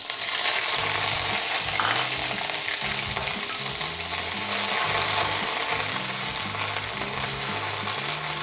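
Steady sizzling of garlic frying in hot vegetable oil, with soft stirring and scraping sounds throughout, fairly quiet and continuous.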